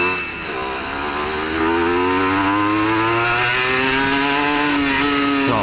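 A 1996 Honda NSR 150R two-stroke motorcycle rasps loudly nearby, its engine climbing in pitch as it revs up, then holding a high, buzzy whine with a slight dip and rise, no talking.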